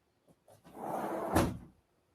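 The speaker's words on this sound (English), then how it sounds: "Let me close this door." An indoor door is pushed shut. A soft sliding sweep swells into a muffled thud, close and alone, then the room goes quiet.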